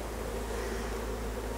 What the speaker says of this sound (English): there are always going to be some bees that remain in the package